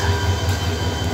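Pahadika Express train standing at Sreemangal railway station, heard as a steady low mechanical rumble and hum with a faint hiss on top, continuous and close, no talking.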